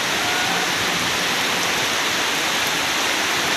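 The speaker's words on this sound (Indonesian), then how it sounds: "Ya, ini pada siang hari ya, diguyur hujan lebat." Heavy daytime rain pours over Suka Maju village in Simeulue, Aceh, heard while sheltering at a roadside coffee stall: a dense, unbroken roar of water that stays loud and even throughout.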